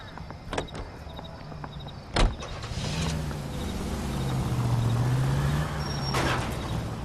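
A detective's car idles and rumbles in LA Noire, with a steady low engine drone that rises in the middle, a sharp door thump early on, and a few small mechanical clicks, all without talk.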